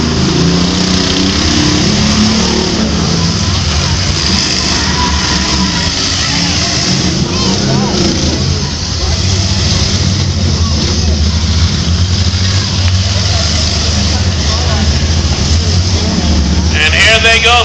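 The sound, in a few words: demolition derby cars' engines revving and colliding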